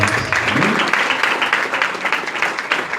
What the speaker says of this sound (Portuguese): Feitos os votos, podem aplaudir a Jesus pelas glórias.